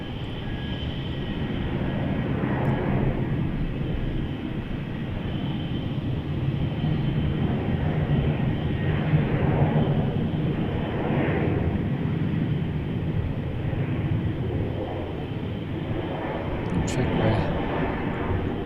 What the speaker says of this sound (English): Jetstar Dreamliner JQ17 heading to Singapore. Is taxiing to runway 34.